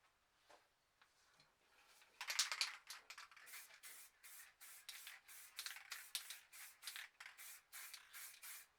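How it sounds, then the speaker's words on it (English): An aerosol spray paint can sprays white paint in a series of short, rhythmic hissing bursts after a couple of soft taps, close and fairly quiet, with no voices. "we'll just spray a bit of white across the bottom here."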